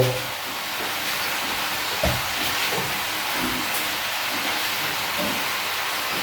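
A steady, soft hiss of steam fills the clip, with faint clinks and bubbling underneath, as clams steam in a covered pot on the heat.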